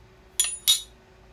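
Two quick, bright metallic clinks from heavy-duty metal measuring spoons knocking together, close and clear against a quiet background.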